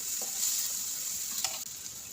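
Spices sizzle and fry in a pan for bata fish curry, a steady bright hiss with an occasional scrape or clink of stirring, alone and fairly quiet.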